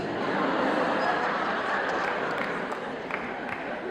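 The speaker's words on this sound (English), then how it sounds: "Give me a cheer if you're a Raja sir fans." A live studio audience cheers and claps for Ilayaraja fans on a Tamil talk show, a dense, sustained crowd roar with scattered claps holding steady throughout.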